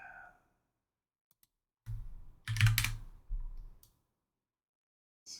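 Computer keys and a mouse are clicked in three short clusters during 3D material editing in software, quiet and close, with silence between bursts.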